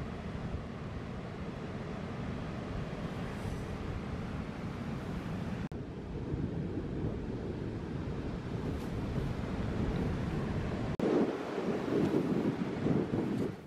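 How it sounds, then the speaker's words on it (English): Strong coastal wind at Slea Head buffeting the microphone in a constant loud roar, with the rush of surf beneath and heavier gusts toward the end. "it's taking the full force of the wind and Harry at times was being buffed quite a"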